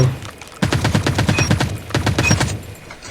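Rapid bursts of ASM10 rifle fire in the Call of Duty Mobile video game, two close, loud volleys of quick repeated shots separated by a brief pause, with no talking.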